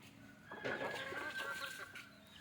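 Native country chickens, among them a black hen, peck at food in a yard, giving soft scattered clucks over a low background, close and fairly quiet.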